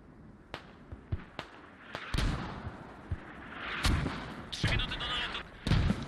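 Mortar rounds from a Squad match on the Mutaha map land in a run of sharp, booming impacts, several close together with heavier blasts near the end, under ongoing battlefield noise.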